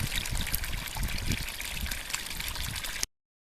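Spring water trickles and gurgles at a dug spring box beside a fire road in Shenandoah National Park, a close, steady liquid babble that cuts off abruptly.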